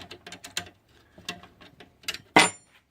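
A bolt on a Kasco Marine deicer power cord is tightened, giving quick clusters of small ratcheting clicks and ticks close up, ending with one louder metallic clack.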